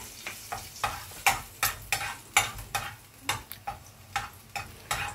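Garlic frying in a pan until it browns, with a spatula scraping the pan in steady, regular strokes over a soft sizzle, close and fairly loud.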